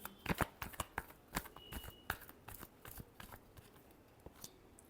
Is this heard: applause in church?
no